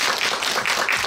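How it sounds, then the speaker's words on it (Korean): Audience clapping fills a cinema auditorium after a film screening, dense and steady for about a second with no voices. "박수 한번 부탁드립니다"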